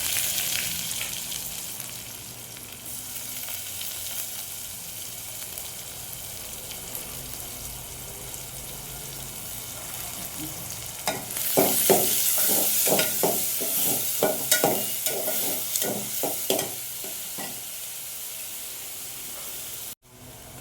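Finely chopped onion sautéing in a pan for Kolhapuri misal, a steady close sizzle throughout, joined midway by a run of rhythmic stirring scrapes before settling back to frying hiss.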